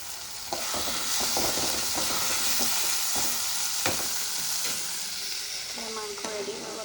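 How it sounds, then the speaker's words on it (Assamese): Lai saag (mustard greens) fries in hot oil in a pan, a continuous loud sizzle broken by repeated scraping knocks of a stirring utensil throughout. "শাক ভাজি আছোঁ, লাই শাক।"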